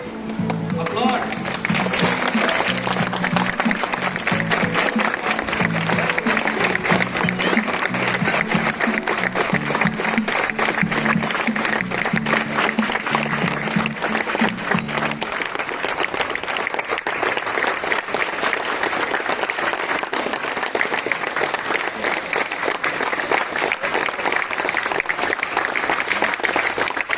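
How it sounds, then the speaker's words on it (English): School audience at a World Environment Day assembly applauding students, a sustained, steady wall of clapping that runs the whole length, with music or a voice tone beneath it in the first half. "Applaud."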